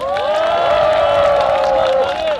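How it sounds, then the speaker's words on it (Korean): Crowd at an outdoor press conference in front of the Blue House in Seoul claps and cheers, a dense, continuous roar lasting a couple of seconds, with a sustained tonal whine or voice running through it. "박수 한번 보내주세요"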